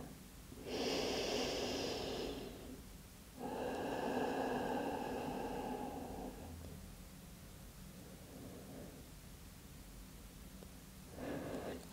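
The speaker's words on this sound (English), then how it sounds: "Take one more deep breath here." A slow, deep yoga breath taken close and audibly: two long airy inhales with a brief pause between them, then a softer sustained exhale and a short final breath.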